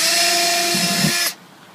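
Cordless power drill whirring at steady speed while boring a drain hole through a plastic bin, a single close, loud burst about a second long that cuts off abruptly.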